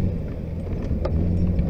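A 4x4 truck in drive grinds and rumbles over logs in an off-road setting, its low engine drone steady and close with a few faint knocks, and no talking.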